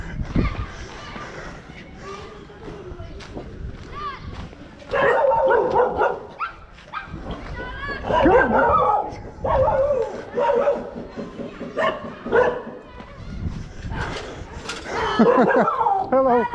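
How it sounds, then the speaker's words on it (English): Dogs bark and yip repeatedly at fairly close range, with some whimpering, while people talk over the commotion, on a street in Pushkar, India. "Getting attacked by dogs everywhere."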